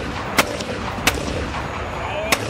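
Three sharp gunshots from military training fire ring out at uneven intervals over a steady background rumble, each one a sudden loud crack.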